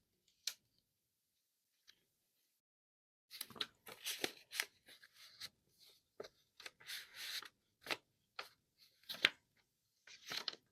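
A paper pop-up cross card being folded down, giving quiet crinkling, creasing and rustling paper sounds in quick bursts after a near-silent start.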